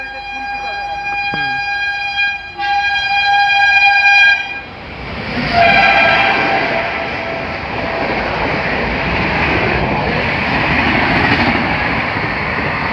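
A passenger train on the Puri route sounds a long multi-tone horn blast, then its cars rumble past loudly and steadily, close by, with no talking.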